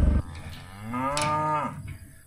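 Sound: cattle mooing

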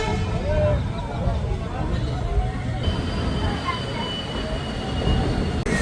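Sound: train running on rails

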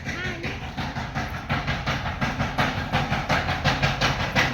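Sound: pounding masala spices by hand

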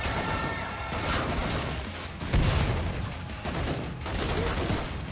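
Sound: gunfire in the video game Killing Floor 2

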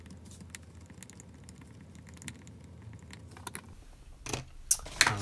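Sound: cutting a circuit board trace with an X-Acto knife

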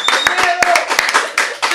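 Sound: audience clapping hands

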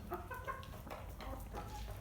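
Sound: young rooster clucking

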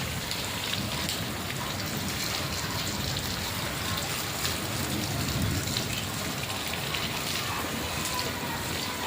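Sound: rainwater pouring off a flat roof

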